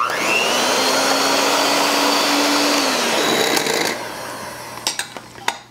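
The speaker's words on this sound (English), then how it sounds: "I'm just going to use my mixer because it's handy" Electric hand mixer beating eggs in a bowl, a steady loud whirring drone with a falling pitch toward the end, then stopping, followed by a few light clinks and taps against the bowl.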